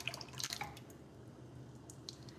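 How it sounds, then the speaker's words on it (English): Heavy whipping cream poured into a bowl in a home kitchen, a brief soft liquid splash and dripping, faint and close, with no talking. "I'm just gonna pour that in."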